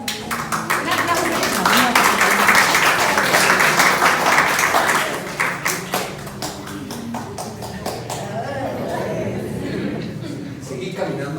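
Audience applause after a church theatrical performance, a burst of crowd clapping that swells for several seconds, then thins into scattered individual claps as a voice begins speaking.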